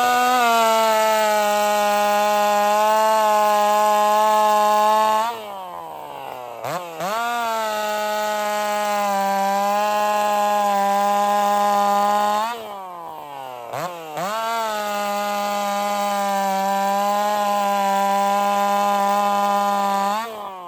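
A Partner 5000 Plus race chainsaw fitted with 325 chain cuts through wood, its loud, high-revving whine holding steady between two brief dips as the bar bogs into the cuts, with no talk.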